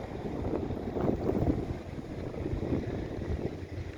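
Strong sandstorm wind in the desert between Riyadh and Haradh buffets the microphone with a loud, continuous low rumble that surges and eases in gusts, with no voices heard.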